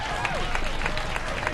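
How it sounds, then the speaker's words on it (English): A parade crowd claps and cheers for Iwo Jima survivors riding past at a Fourth of July parade in Bristol, Rhode Island, with dense applause and scattered shouts held steady and loud throughout. "it's not just the clapping, but you're hearing so many people yelling to them as well"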